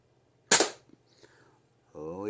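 A single sharp shot from an Umarex Gauntlet 2 air rifle, loud and close, with a short decay and a faint mechanical click afterward, ending in a low hum.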